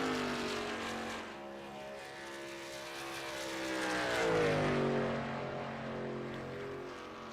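A race truck in the iRacing simulator drones past with a loud, rising and falling engine note whose harmonics sweep downward as it passes, a sustained roar with no talk over it.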